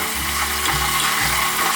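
Peanuts frying in hot oil in a home kitchen, a steady dense sizzle with faint clicking and stirring noises running throughout.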